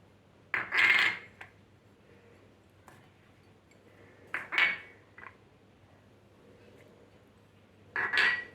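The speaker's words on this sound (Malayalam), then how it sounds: "ആദ്യം തന്നെ നമുക്ക് അരിഞ്ഞു വെച്ചിരിക്കുന്ന ഈ വെജിറ്റബിൾസ് ഒരു പാത്രത്തിലേക്കിട്ട് നമുക്ക് ഒന്ന് മിക്സ് ചെയ്തെടുക്കാം" Chopped vegetables are mixed in a bowl as a topping for oothappam, giving three short bursts of close scraping and clattering against the bowl with quiet stretches between them.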